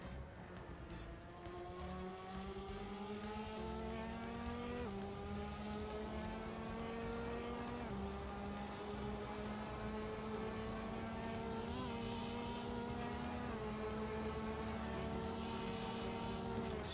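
Ferrari race car engines roar in an Assetto Corsa race, a dense, continuous whine of several cars with rising and falling pitch as they shift gears. The sound is steady and fairly loud, with no voices over it.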